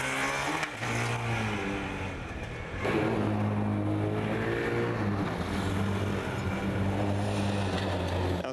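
A Formula Student race car runs an endurance lap, its engine droning steadily at moderate distance with a brief dip and shift near the start, then a stronger rising note holding through the rest of the lap.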